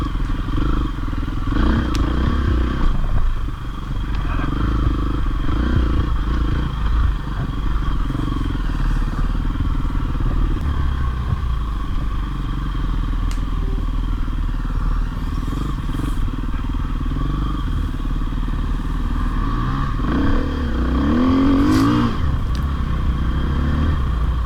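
A Husqvarna dirt bike passes amid steady motorcycle engine noise while riding along, the engine drone continuous and fairly loud with a brief rise near the end as it goes by.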